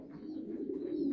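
French pigeons at a pigeon farm in Ha Nam, Vietnam, give a soft low coo, brief and faint, close by with a light background hiss.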